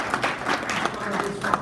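A church congregation claps in applause, a short steady patter of many hands in a reverberant hall, mixed with some voices.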